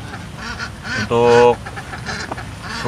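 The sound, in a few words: herded ducks quacking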